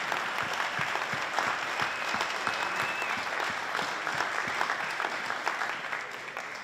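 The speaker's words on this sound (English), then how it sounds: "let's give them all a warm round of applause" An audience at a candidates meeting claps in warm, sustained applause, a dense steady patter of many hands filling the room for several seconds before easing slightly.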